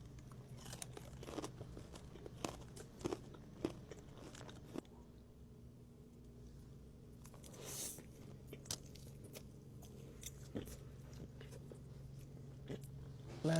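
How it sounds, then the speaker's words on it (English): Crunchy mango habanero street-corn-flavored snack bitten and chewed close to the mic in a mukbang, a run of sharp crisp crunches at an uneven chewing rhythm with a short quieter pause midway. "Listen to the crunch."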